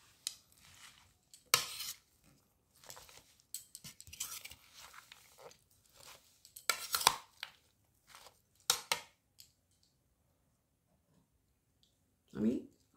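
Chicken salad is tossed and squeezed by hand, giving sparse, irregular moist crunches and clicks at close range, separated by quiet pauses, with one soft thump near the end.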